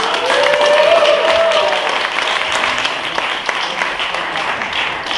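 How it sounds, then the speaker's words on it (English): A crowd applauds as a moderator is introduced at a Bitcoin panel event. Loud, sustained clapping fills the room, with a brief tonal whistle or cheer early on and the noise holding steady throughout. "Please, big round of applause."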